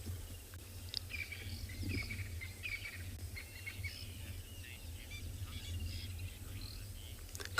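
Noisy birds calling on a sunset safari, repeated honking and chattering calls at moderate distance over a steady low rumble and insect hum.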